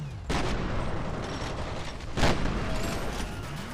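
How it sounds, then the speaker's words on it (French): Rapid bursts of gunfire from the shooter game F.E.A.R. Perseus Mandate fill the scene, a dense, continuous volley with a sharper, louder burst partway through and no speech. "Me tire dessus là encore."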